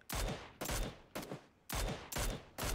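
Gunfire in the video game Fortnite comes as six sharp, loud shots at irregular intervals, each followed by a short decaying tail, close and clear with no talking over it.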